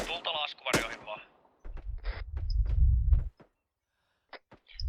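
Rapid gunfire bursts and sharp shots ring out in a video game parachute assault, mixed with low rumbling impacts, under shouted talk between players.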